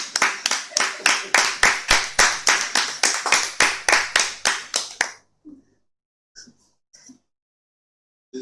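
A church congregation claps in steady, rapid unison for about five seconds, loud and close, then stops into near silence broken by a few faint knocks.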